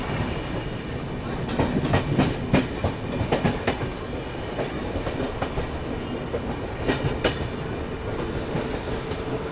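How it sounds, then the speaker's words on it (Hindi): AP Express train wheels clatter over railway track, heard from on board while passing Hazrat Nizamuddin station in Delhi, a close, loud and steady rumble with rhythmic clicks and joint knocks and no talk. "ट्रैक साउंड सुनिए आप।"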